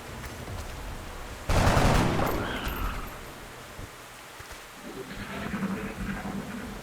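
A sudden loud blast of gunfire from soldiers in XCOM: Enemy Within, one sharp burst that decays over a couple of seconds, followed by quieter rumbling and movement.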